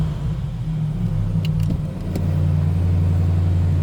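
A 2022 RAM 1500 TRX pickup truck engine idles steadily after starting with a deep, low rumble, joined by a few faint clicks partway through, then settling into a slightly louder, even hum.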